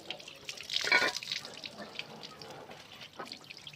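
Water splashes over a sport motorcycle chain to rinse it, an uneven close gush with a louder surge early on, then softer dribbles and drips.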